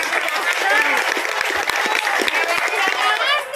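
A crowd at a local election campaign rally in Sekupang, Batam, claps loudly and continuously, with sharp hand claps over a dense murmur of voices and cheering nearby.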